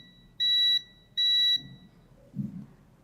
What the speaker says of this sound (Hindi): ये आमने सामने बीप देगा और जंपर लगने के बाद ये सब भी बीप दे रहे हैं।